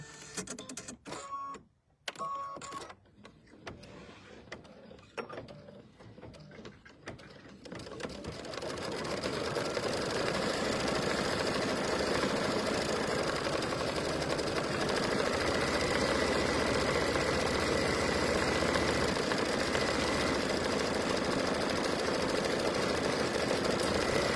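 An embroidery machine stitches gold thread on a coaster. After a few seconds of quieter handling noises, its fast, even mechanical chatter starts and runs steadily and close for the rest of the time.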